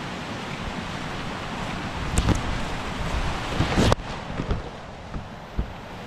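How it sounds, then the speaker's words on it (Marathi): A rain-swollen village stream in the Konkan countryside rushes in a steady, broadband wash of water noise, with a few brief knocks and thumps toward the end. "व्हाळाचं पाणी बघा, आवाज बघा व्हाळाच्या पाण्याचं"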